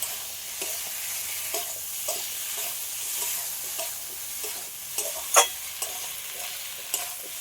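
Prawns sizzle and fry in a hot pan while being stirred with a utensil, a steady crackling hiss broken by repeated scraping strokes and a few sharper clinks, with no talking.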